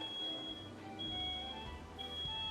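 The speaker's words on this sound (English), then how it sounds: "My smoke alarm's going off." Smoke alarm in an apartment, set off during a roommate's cooking, beeps faintly in short repeating tones from another room, with no talk.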